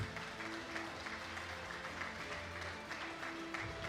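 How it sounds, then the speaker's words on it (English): Audience applause for awardees at a university employee recognition ceremony, a steady even patter of clapping held at moderate level throughout. "Let us give one more round of applause to all our awardees."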